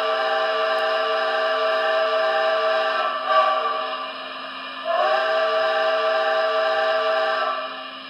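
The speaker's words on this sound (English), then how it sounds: "let's check out the whistle, which sounds amazing in my opinion" MTH Premier Great Northern S-2 model steam locomotive sounding its whistle: a loud, sustained chord-like blast that briefly dips and then resumes before tapering off, close and clear with no talk.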